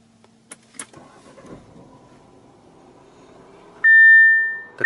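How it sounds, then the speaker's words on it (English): In a 2021 Audi A4 Prestige, a couple of soft clicks and rustles come first, then a low hum settles in as the push-button ignition starts the car, followed by a loud, steady electronic chime tone near the end. "what I want to go ahead and do is start the ignition"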